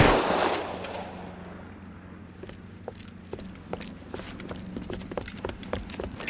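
Gunfire crackles through a shoot-out in the video game L.A. Noire, scattered sharp shots popping at irregular intervals over a low steady hum, moderately loud.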